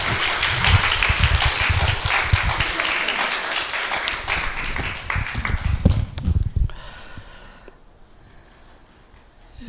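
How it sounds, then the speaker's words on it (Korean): Congregation in a Korean church breaks into warm applause for a visiting pastor, loud and dense at first, then thinning out into scattered claps and settling into room quiet. "뜨거운 박수 한번"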